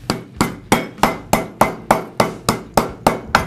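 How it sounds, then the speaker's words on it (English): Carne asada meat pounded thinner under plastic, about a dozen evenly spaced thuds landing in a steady beat, close and clear. "We're just gonna pound them slightly thinner to give us more surface area to actually roll up."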